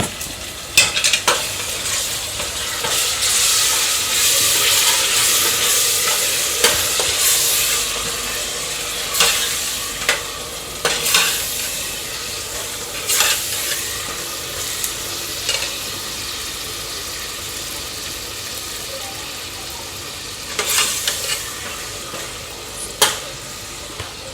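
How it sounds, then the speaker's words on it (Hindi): Large pieces of meat, about a kilo, frying in a pot for an Eid dish, a steady sizzle and hiss with repeated scraping stirs and clinks of the spoon throughout, close up and without speech. "इसके बाद हम यहाँ पे 1 किलो गोश्त शामिल करेंगे।"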